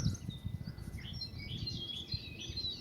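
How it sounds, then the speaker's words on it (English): Birds chirp and tweet continuously outdoors, a dense layer of high, overlapping calls running throughout at moderate distance, with no talk over them. "birds tweeting away"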